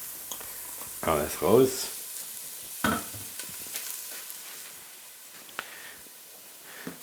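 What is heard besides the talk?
onions sweating in a pan for Polish żurek soup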